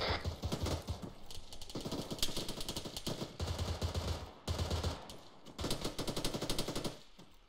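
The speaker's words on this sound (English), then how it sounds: "That heavy machine gun is still there and just shooting me down." Heavy machine gun fire in a military shooter game, sustained rapid bursts with brief pauses, loud and close throughout.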